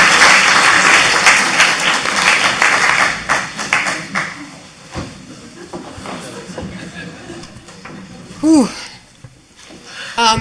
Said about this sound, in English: Clap your hands, yes we will.